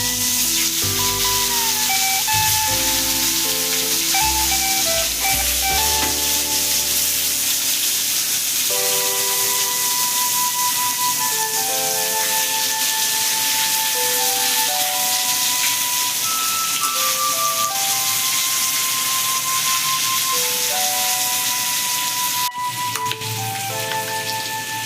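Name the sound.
eggplant frying in oil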